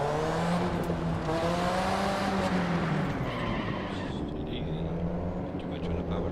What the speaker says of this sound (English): Too much on the power. It is a drift car.